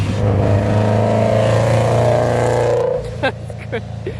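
A manual-transmission car driven by a teenager learning stick shift, its engine droning steadily and climbing under added throttle, then easing off as voices talk over it near the end.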